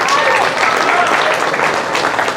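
Audience applause for an award winner at a 2019 workforce development awards ceremony, a steady dense wash of many hands clapping throughout, with a few voices and cheers mixed in.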